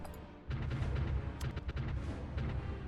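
Artillery bombardment in the strategy game Supreme Ruler Ultimate, a dense, continuous roll of heavy booming blasts and rumbling impacts after a brief quiet start, loud and sustained with no talking.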